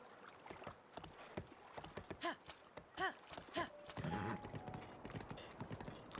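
Horse hooves clip-clopping in a Zelda video game, a series of distinct hoofbeats at a trotting rhythm. A short whinny-like tone follows, and a faint voice can be heard in the background.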